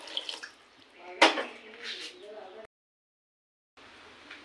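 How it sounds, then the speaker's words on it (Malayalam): A glass of boiled water is poured into a ponnanganni spinach curry in a pan, giving a short splashing burst among light watery sounds. The sound cuts to silence for about a second before faint sound returns. "കുറച്ച് വെള്ളം ഒഴിച്ച് കൊടുക്കാം"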